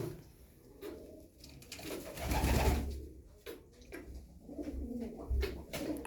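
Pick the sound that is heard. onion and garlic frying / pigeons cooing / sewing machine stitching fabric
pigeons cooing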